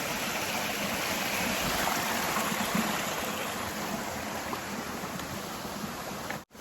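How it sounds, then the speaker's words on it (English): Creek water rushes steadily and close by as a hiker crosses on the Appalachian Trail near Mount Madison, a dense unbroken wash of flowing water that cuts off abruptly at the end. "let me get through this creek so I don't fall"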